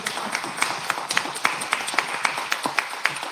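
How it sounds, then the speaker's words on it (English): Audience clapping at a live homebrew awards show, a scattered crowd of hands striking steadily with sharp individual claps popping out, fairly close and continuous for a few seconds. "can you please clap for Madison Yeah"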